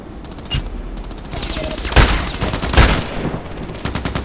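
Sniper rifle gunfire in the Contract Wars shooter game: a few sharp, loud shots with ringing tails, spaced about a second apart, over a steady game background with no talking.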